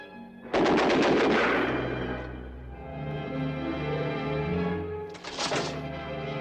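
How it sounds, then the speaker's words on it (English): Tommy gun machine-gun fire in an old black-and-white movie, a loud sustained rapid burst up front, a stretch of music and ambience, then a second short burst near the end. "Grab the Tommy gun, you idiot."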